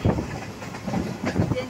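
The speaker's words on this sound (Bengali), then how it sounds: "ট্রেন চলে যাচ্ছে, চুক চুক চুক চুক চলে যাচ্ছে।" A train rolling past with a rhythmic clatter of wheels and a low rumble throughout, loud and close, with a voice speaking over it.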